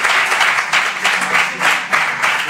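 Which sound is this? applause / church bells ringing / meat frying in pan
applause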